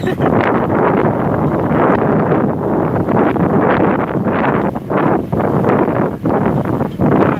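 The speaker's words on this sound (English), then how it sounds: "It's nice and breezy." Strong wind buffets the microphone aboard a sailboat outdoors, a loud continuous roar with gusty surges and rustling that does not let up.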